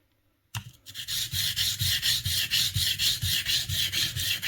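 An 80-year-old wood plane blade is rubbed back and forth on the coarse side of a sharpening stone, giving a steady, close, rhythmic scraping stroke about every third of a second after a brief quiet start.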